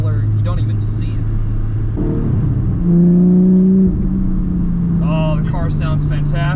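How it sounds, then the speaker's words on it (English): A 2022 Porsche 718 Cayman GTS 4.0 drives along, its engine humming and rising in pitch as it revs through the gears, close and fairly loud, with people talking over it. "Oh, the car sounds fantastic."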